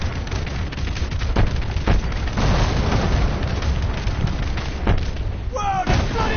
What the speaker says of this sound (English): Who needs an AC-130 when you've got cluster bombs?